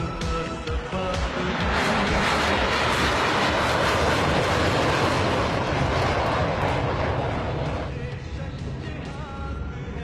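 A Pakistan Air Force F-16 jet roars past during a military parade flypast and pulls into a steep muscle climb, a loud broad rushing engine roar that swells, holds, then begins to fade toward the end.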